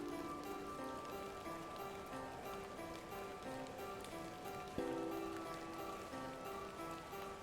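Steady rain patters across the scene in the point-and-click adventure game The Excavation of Hob's Barrow, a soft continuous hiss with faint drips, blended under quiet game music.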